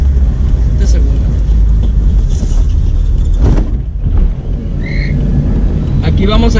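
A manual transmission car accelerating gently on a slope during a driving lesson, with a steady engine hum and wind rumble in the cabin and some brief noises near the end.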